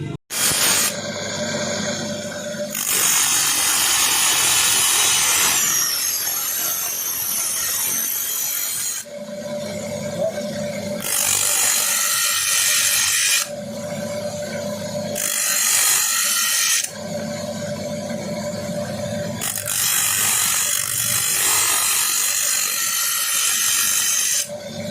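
Rasping, grinding cuts into the underside of an i Smart 110 motorcycle's exhaust silencer, loud and close, coming in several long bursts with short pauses between them.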